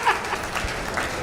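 Applause from the audience at a Hindi comedy poetry show: a brief, dense patter of many hands clapping together, steady and moderately loud, with no voice over it.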